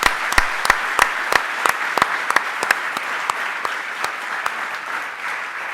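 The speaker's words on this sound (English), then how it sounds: "Give her a round of applause" A crowd at a post-screening discussion claps for the film's editor, a sustained round of applause. Several sharp, close individual claps ring out against a dense wash of clapping.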